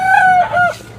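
A one-year-old rooster for sale at the Tongi chicken market, crowing once up close in a loud, drawn-out call that rises and then falls, with faint market noise underneath.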